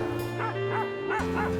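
A dog barks four times in quick, evenly spaced yaps over a steady humming musical drone.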